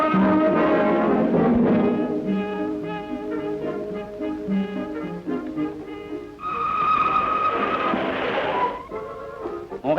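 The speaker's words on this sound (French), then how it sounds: "Voici le train qui s'en va, remorqué par la locomotive à l'étude." A 141R steam locomotive hauls a departing test train with a dynamometer car behind it, giving a loud, sustained rumble with repeated tonal blasts, and a brighter whistle-like tone rising near the end.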